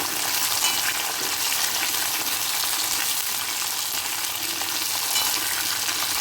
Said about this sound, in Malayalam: ഇനി അതിലേക്ക് നമുക്ക് ഒരു മുരിങ്ങക്കായ ഇതേപോലെ കട്ട് ചെയ്ത് ഇട്ട് കൊടുക്കാം